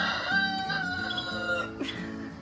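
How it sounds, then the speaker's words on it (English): Several chickens cluck and squawk close by in a busy, overlapping chorus, with a higher cackle standing out near the end. "the chickens are so noisy when I'm trying to do"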